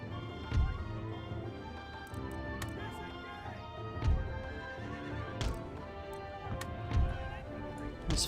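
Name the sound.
horses neighing in battle, video game Empire: Total War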